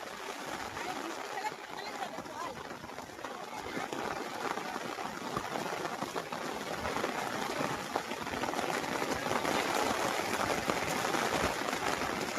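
Steady rain falls on an open rural field in a Sundarbans village with cattle standing out in it, a continuous dense hiss that holds even and fairly close throughout with no speech.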